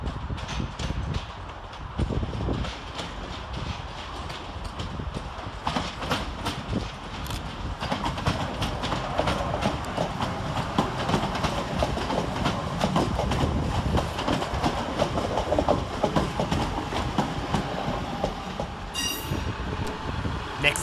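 Northern Rail unit 323230 pulls into Manchester Piccadilly to terminate on a service from Crewe, a loud, continuous rumble with rhythmic wheel clatter and a brief high squeal near the end.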